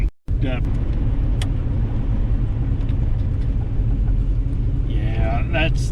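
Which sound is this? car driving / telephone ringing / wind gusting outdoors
car driving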